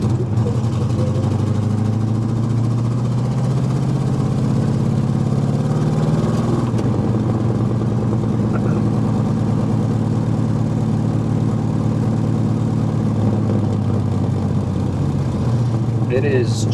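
A 1964 Chevrolet Nova with a non-original 350 V8 and four-speed manual idling while warming up on a chilly morning, a steady deep rumble, close and loud, with speech over it.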